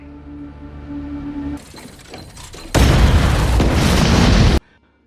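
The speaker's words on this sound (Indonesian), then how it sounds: "tiba-tiba terjadi ledakan di bawah kereta itu" A sticky bomb under a train in a sci-fi film blows up with a sudden loud, sustained blast of roaring noise after a low droning buildup, then cuts off abruptly.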